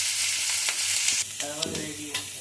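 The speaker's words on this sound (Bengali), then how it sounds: "আমার ক্যাপসিকাম পেঁয়াজ ভাজা হয়ে গেছে।" Capsicum and onion sizzle and fry steadily in a hot pan, a bright hissing crackle with a few soft scrapes of stirring, no voices.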